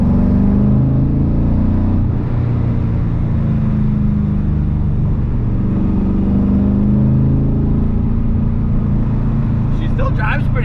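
An LS V8-swapped BMW E46 cruises with a steady, fairly quiet low engine drone heard from inside the car, while people talk over it.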